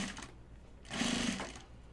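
A sewing machine stitches a fabric pocket bucket, a faint short run of whirring that swells briefly in the middle over quiet room noise.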